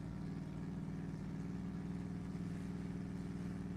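An older truck engine idles at a drag racing event, a low, steady rumbling drone with a regular throb, fairly faint and distant, with no speech heard over it.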